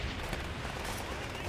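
Steady, dense gunfire from the World at War video game aimed at German soldiers: a continuous loud barrage of shots and battle noise that fills the whole short stretch.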